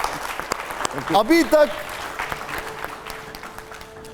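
A studio audience on a TV show breaks into applause, the clapping rising briefly beneath a voice and then tapering off into the background.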